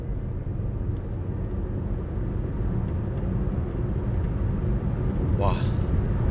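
A 2026 Toyota bZ4X electric car accelerates, heard from inside as a steady low road and motor rumble that slowly builds, with a brief voice near the end.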